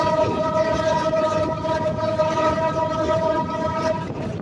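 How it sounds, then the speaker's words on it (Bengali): Dhaka-bound intercity Jahanabad Express pulls out of Singia junction railway station, a steady tonal drone riding over broad, loud rolling rumble that holds for the whole span and eases slightly at the end. "ঢাকামুখী আন্তনগর Jehanabad express Singia rail station ছেড়ে যাচ্ছে"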